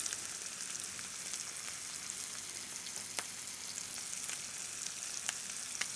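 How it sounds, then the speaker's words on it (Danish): A thick beef steak sizzling in a temperature-controlled frying pan held at 220 degrees, giving a steady close frying hiss with scattered sharp crackles and pops throughout, with no talk. "Men indtil nu ligner det jo sådan meget normal bøfstegning."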